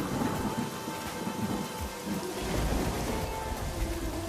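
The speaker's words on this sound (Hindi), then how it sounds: "और बारिश शुरू हो गई।" Heavy rain pours steadily during a storm, with thunder rumbling low through the downpour that collapses a house, a continuous dense wash of drops without any voices.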